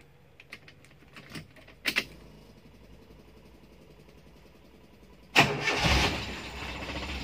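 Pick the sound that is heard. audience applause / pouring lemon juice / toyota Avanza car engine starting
toyota Avanza car engine starting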